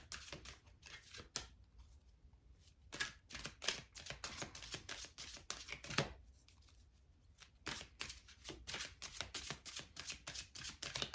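Tarot cards are shuffled and pulled by hand in a quiet room, giving rapid, crisp riffling flutters and soft slaps in bursts with short pauses between them.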